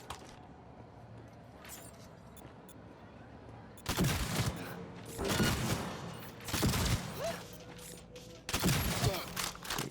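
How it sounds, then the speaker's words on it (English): Shotgun blasts in Cyberpunk 2077, four heavy booming shots spaced a second or two apart, loud against a quieter game background with a voice talking at times. "let's use a shotgun"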